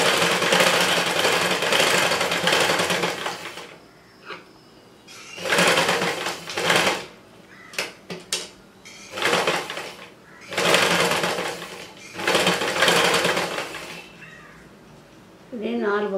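A sewing machine stitches a neck design into fabric in repeated bursts of rapid, close-up whirring, separated by short pauses as the cloth is repositioned.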